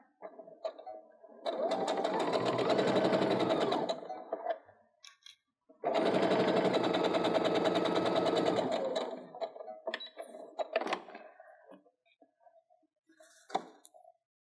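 Sewing machine stitching a quilt in two steady whirring bursts of a few seconds each, with a pause between them, then light clicks and handling noises.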